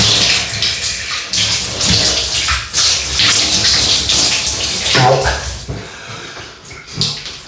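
Water running from a tap while a face is rinsed after shaving, a continuous close splashing hiss with hands moving through the stream.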